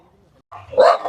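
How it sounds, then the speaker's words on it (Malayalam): After a moment of near silence, a single sharp dog bark rings out close and loud at Koorumala viewpoint, Piravam, Ernakulam. "ഇവിടെ ആളുകളെക്കാൾ കൂടുതൽ പട്ടികളാണ് കേട്ടോ"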